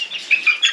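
Chickens flapping their wings inside a mobile coop, a short burst of fluttering wing beats with a few stronger flaps, close and fairly loud.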